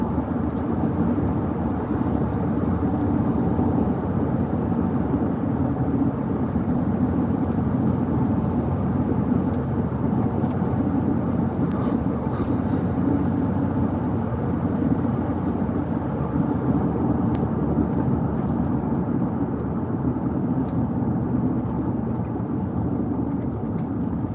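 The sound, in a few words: quiet pickup truck engine while driving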